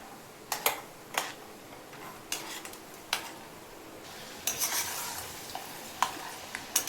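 Peanuts frying in oil for poha chivda, a low steady sizzle broken by sharp spoon scrapes and taps against the pan at irregular intervals, no talk.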